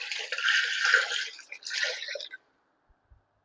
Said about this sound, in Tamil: பச்சை தண்ணியே தான் நான் ஊற்றிக்கிறேன்